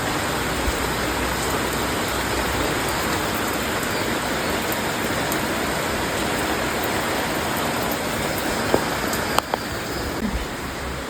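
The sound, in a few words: rain starting to fall outdoors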